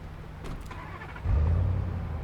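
A police car engine in the video game Police Simulator: Patrol Officers turns over and settles into a low, steady hum after a brief quiet stretch with faint clicks.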